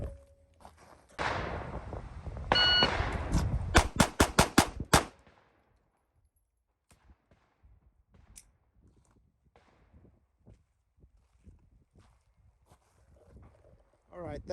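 SIG X-Macro pistol fired in a quick timed string on a range: a tight burst of loud, sharp shots over about two seconds, then quiet with faint scattered handling noises.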